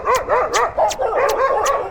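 Several dogs bark in a quick repeated run on a Delhi street, loud and close, with sharp yelps mixed in and about five or six barks in steady succession, no talk over them.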